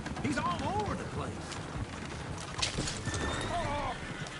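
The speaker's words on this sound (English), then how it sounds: "Oh, shit, the horses!" Horses neigh and hooves clip-clop inside a video game, with several whinnies near the start and again toward the end over a busy game soundscape, and a player talks over it.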